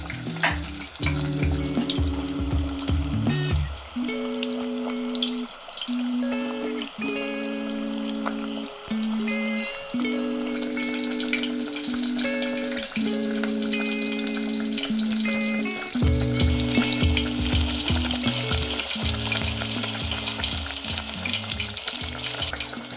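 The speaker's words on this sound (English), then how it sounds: "When you first add the pork to the oil, you will hear that it cracks loudly. This is the oil reacting with the moisture in uncooked meat." Breaded pork cutlets for tonkatsu deep fry in hot oil, giving a dense, continuous crackling sizzle with bubbling and popping throughout, close and loud, with no talk.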